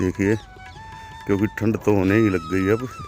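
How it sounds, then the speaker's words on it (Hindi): Birds calling at sunrise over a misty coriander and spinach field, with a rooster-like clucking and a thin high whistle running through, heard under someone talking nearby. "तो पक्षी बोल रहे हैं सवेरे का टाइम है"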